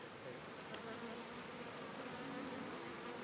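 Honey bees buzz around beehives in Afghanistan's Panjshir valley, a steady, faint swarm hum with overlapping wingbeat drones, continuous and unbroken.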